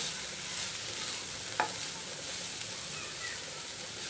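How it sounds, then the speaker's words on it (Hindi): A chicken and vegetable samosa filling sizzles softly in a pan while it is stirred. A low, steady frying hiss carries a single brief clink partway through. "इसको मिक्स करेंगे अच्छे से"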